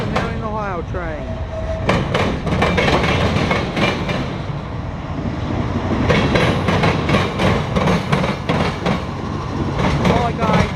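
A CSX westbound local freight train backs through Marion, Ohio, its wheels clattering over rail joints in a steady, close rhythm while a voice talks over it. A brief horn-like tone sounds near the start.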